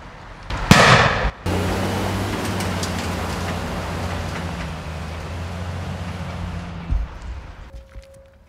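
A simulated improvised explosive device blast strikes a military vehicle convoy during a Defence Forces transport exercise: one sharp loud bang rings out, followed by a long rumble of idling heavy vehicles nearby that fades at the end.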